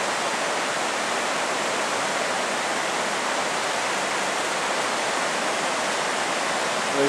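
A river rushes steadily near a cable crossing with a small basket, a loud, dense, unbroken roar of flowing water that holds constant for the whole stretch.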